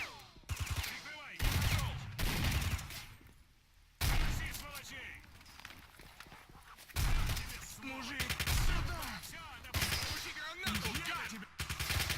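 Repeated gunfire in STALKER: Shadow of Chernobyl, loud bursts of automatic and single shots in uneven clusters, with occasional talk between them.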